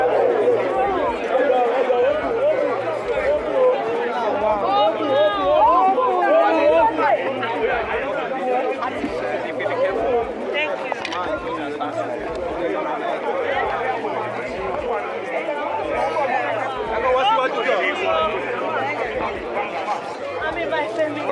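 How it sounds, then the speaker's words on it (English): Rowdy crowd at a Lagos state local government election, a dense loud babble of many overlapping voices and shouts filling the space continuously, with nearby talkers standing out over the general din. "it's a bit rowdy here, so we're trying to get the right position despite the crowd"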